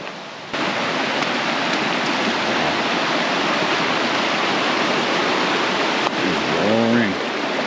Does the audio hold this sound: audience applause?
no